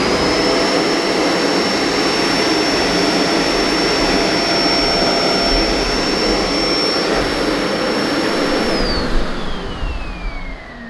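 A Kenmore Intuition bagged upright vacuum (BU4022/BU4021) runs on a hard floor with its roller off, giving a loud, steady whooshing roar with a high whine that drops away as the motor winds down at the end.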